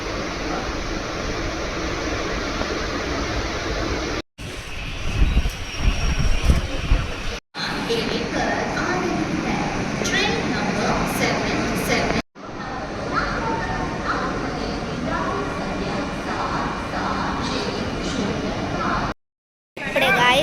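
A small passenger train on a journey toward Shirdi rumbles steadily from inside the carriage. The low, constant rolling noise runs under people talking and breaks off in a few abrupt cuts.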